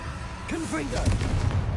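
A Confringo blasting spell in Hogwarts Legacy goes off with a booming explosive burst, heard close and loud under a spoken voice and in-game sounds.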